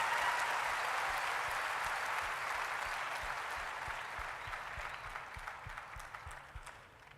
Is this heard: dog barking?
no